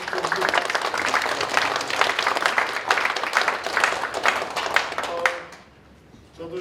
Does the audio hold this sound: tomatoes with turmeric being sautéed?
no